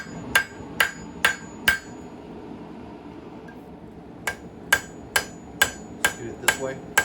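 A hammer strikes a knife blank in a forge, about four sharp ringing metallic blows, a pause, then about six more at a steady pace, close and alone over a quiet room.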